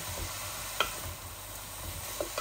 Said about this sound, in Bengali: তাই একটা এই ভাজা করতেছি, চেসকি মাছের শুটকি বুনা বুনা